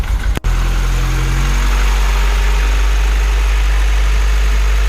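A Honda engine cranks and catches in a brief burst, then settles into a loud, steady idle with a deep, even hum held close throughout.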